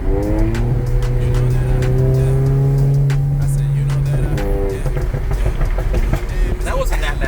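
VW MK7 GTI with a Borla S-Type exhaust, its close engine drone falling in pitch as revs drop, with scattered crackling pops through the deceleration.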